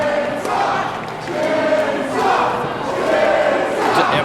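Wrestling crowd in a Los Angeles arena cheering for the wrestler Chainsaw during a women's wrestling match, a loud sustained roar that swells and falls in waves with shouted chants rising through it.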